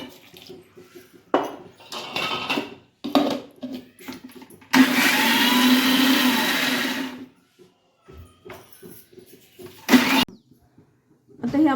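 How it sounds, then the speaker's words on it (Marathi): A mixer grinder whirs through coconut chutney with mint and green chillies for idli, one loud close burst of about two seconds between quieter kitchen clatter and handling noises. "आपल्याला मिक्स करून वाटून घ्यायचं आहे"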